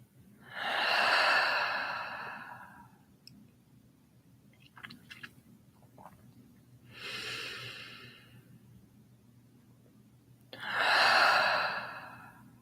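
Three long, forceful breath exhalations from a breath-of-fire breathing exercise, each a rushing, airy whoosh lasting over a second, separated by quieter pauses, close and loud.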